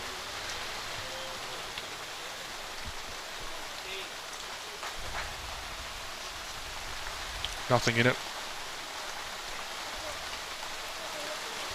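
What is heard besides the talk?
heavy rain pouring down outdoors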